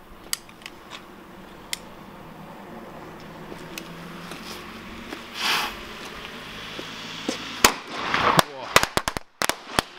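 A string of sharp homemade firecracker pops, scattered at first then bursting in a rapid, loud crackling volley near the end, over outdoor background noise.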